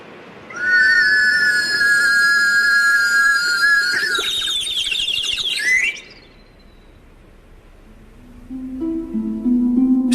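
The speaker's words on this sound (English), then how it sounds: "Just a cup attached to a warbling whistle being lowered into a tank of water." A warbling water whistle, a cup lowered into a tank of water, gives a birdsong-like trill. It sings loudly and continuously for about five seconds, cuts off, then returns as a lower, bubbling warble that builds.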